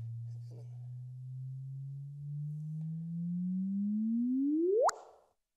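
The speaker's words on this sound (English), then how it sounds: "the frequency goes up and up, and you get what's called a chirp" A sonified gravitational-wave signal from two merging objects plays as a smooth tone that slowly rises in pitch, then sweeps sharply upward into a brief chirp and stops abruptly.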